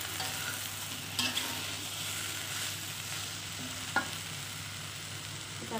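Tempeh stir-frying in a pan with little oil, a steady soft sizzle under occasional scrapes and clinks of a spatula against the pan, fairly quiet and close, with no talking.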